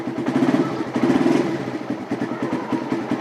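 A motorcycle engine idling steadily in neutral, a close, loud, even chugging with mechanical clatter and no gear engaged.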